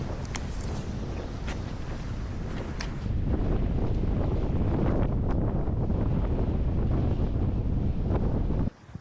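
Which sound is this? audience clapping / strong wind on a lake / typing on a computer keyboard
strong wind on a lake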